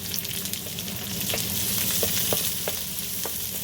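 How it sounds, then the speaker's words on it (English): Chopped onions sizzle steadily in hot bacon grease in a pan, a close, continuous crackling fry with a few soft stirring scrapes and no talking. "We're going to use that next to fry our onions."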